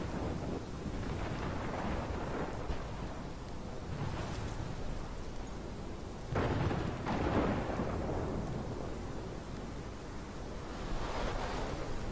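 Thunderstorm in the video game Life is Strange: steady heavy rain and wind with loud rolling thunder claps building and booming, near and continuous, no voices.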